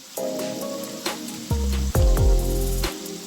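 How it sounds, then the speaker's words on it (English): Garlic and carrots sizzling in a pan, a close crackling fry broken by several loud knocks and clatters of utensils against the pan, with no talking. "The garlic and carrots is cooking for 2 minutes."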